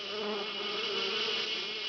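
Swarm of cartoon mosquitoes buzzing in a steady, loud, high-pitched drone that holds without a break, with no voices over it.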